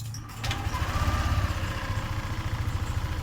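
A Yamaha NMAX 2020 scooter engine fires up and settles into a steady, close idle, its low, even pulsing running alone without speech.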